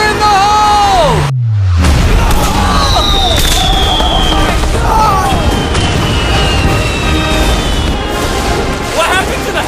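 A large explosion goes off after a countdown, a loud, sustained roaring blast close by, with people shouting and whooping over the rumble.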